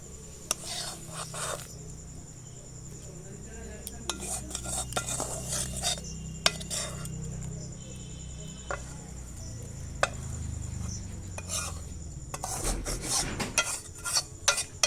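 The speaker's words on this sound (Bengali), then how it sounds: "এই দেখো নামিয়ে নিচ্ছি কড়ার থেকে।" A metal spatula scrapes cooked, sticky banana flower out of a wok, making soft, irregular clinks and scrapes close by under a low background hum, with no one speaking.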